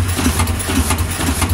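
Engine running under load at steady state, a loud, low, throbbing drone with a regular rhythmic pulse and a rough mechanical texture throughout.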